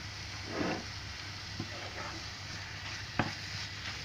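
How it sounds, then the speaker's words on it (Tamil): Vegetables sautéing in butter in a pan for a Tamil pachadi, a steady faint sizzle with a few soft stirring scrapes and taps, no talking. "இது கொஞ்ச நேரம் வதங்கணும்."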